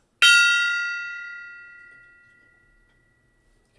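A single struck metallic gong rings out bright and sustained, its shimmering tone slowly decaying over about three seconds before a brief voice begins, marking a big basketball card hit.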